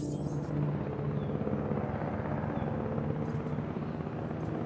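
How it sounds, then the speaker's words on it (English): Helicopter in the video game Jurassic World Evolution, a steady loud rotor rumble and whir holding constant throughout, no talk over it. "So, see the helicopter?"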